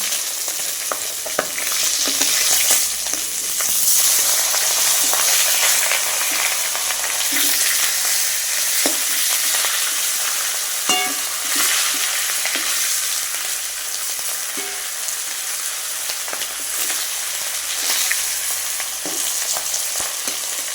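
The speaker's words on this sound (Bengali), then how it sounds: "এখানে মাছের মাথাটা ভাজছি" Fish heads and fish oil frying in a pan, a loud continuous sizzle and crackle with scattered pops and occasional stirring scrapes, with no talking.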